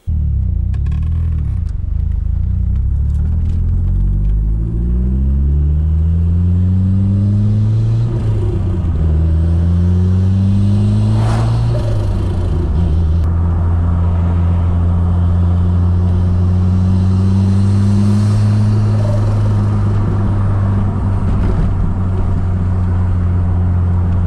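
A Ford Sierra Cosworth turbo car driving on the road, its engine rumbling loudly and rising in pitch through repeated accelerations and gear changes, heard from inside the cabin without talk.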